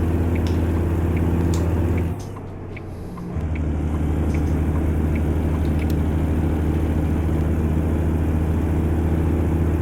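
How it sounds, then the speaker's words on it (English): An International S-4700 daycab work truck pulling a heavy hopper load, its diesel engine droning low and steady, briefly dropping off for a shift before the rumble resumes and holds. "Engine isn't that powerful, and it's just a typical work truck."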